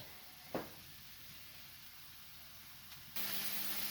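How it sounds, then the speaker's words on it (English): Pork for a Wellington sears in a hot pan with a faint hiss at first and a brief spatter, then a loud, steady, broadband sizzle suddenly takes over and holds to the end. "So I'm going to sear this on both sides"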